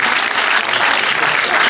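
A cinema audience at Le Prado in Marseille applauds at a film premiere, a dense, loud, continuous wash of clapping with no pause.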